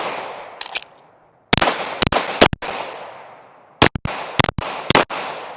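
Pistol shots fired at 10 yards in a 3R33 drill: three freestyle shots, a reload, then three strong-hand and three support-hand shots, sharp loud close cracks in quick groups with ringing echoes and a pause for the reload.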